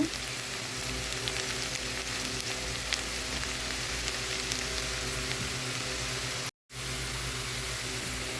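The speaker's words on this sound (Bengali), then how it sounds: "এখন এটা বাদামি করে ভেজে নিব পেঁয়াজটা বাদামি করে ভেজে নেব" Steady, dense sizzle of onions frying in a pan, continuous and fairly close, with a brief dropout near the end.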